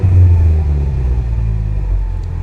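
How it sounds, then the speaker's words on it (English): A 2000 Chevy Camaro SS engine revs briefly with a deep rumble and a blow-off valve, then settles into a lower idle; the rumble is loud and close. "Let's give it a little rev. Oh yeah, you can hear that blow-off valve."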